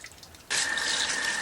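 Dirty water is poured out into a sink, a sudden steady splashing rush that starts abruptly after a brief quiet moment and stays loud and constant.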